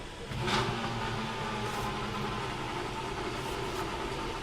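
Racing car in a sim racing video game pulling out of the pit garage at the start of qualifying, a steady mid-pitched engine drone with a brief rev swell near the start, continuous and fairly loud with no talk.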